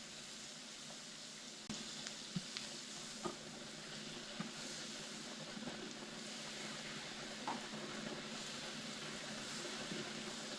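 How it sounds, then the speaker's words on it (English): Butter melts in a hot pan with a steady, even sizzle that holds for about ten seconds, broken by occasional faint ticks and pops, with no voices over it. "Melt the butter down."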